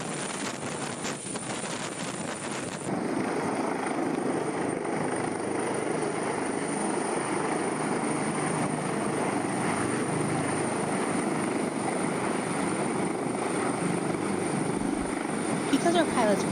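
A state police helicopter working near a landing pad, its steady, loud rotor and engine roar running continuously close by, with no voices over it.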